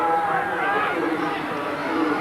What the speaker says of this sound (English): The big crowd, they're demanding a big effort from both sides.